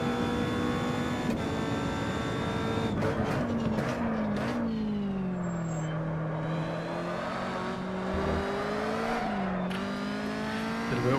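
A Caterham Superlight race car engine drones steadily on track, its pitch climbing and dipping through gear changes and throttle lifts, close and continuous throughout.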